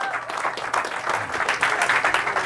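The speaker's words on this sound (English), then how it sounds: "Give yourselves a round of applause." Short burst of audience applause at the close of a lecture event, dense clapping at moderate loudness throughout.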